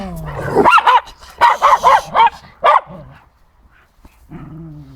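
Shelter dogs barking close by: a quick series of loud, sharp barks and yips in short bursts, then a lower growl-like whine near the end.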